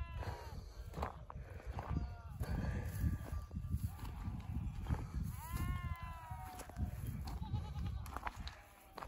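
Sheep bleat repeatedly in wavering calls over a busy mountain farmyard background with shuffling and knocking, some calls close and others farther off.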